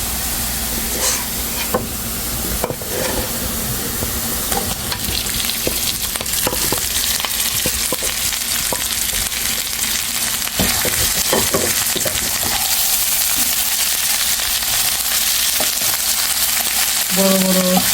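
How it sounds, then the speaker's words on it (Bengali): Meat for karahi gosht fries in a pan with browned onions, a loud continuous sizzle and hiss with scattered stirring clatters up close. "এখন মাংসটা দিয়ে দেবো।"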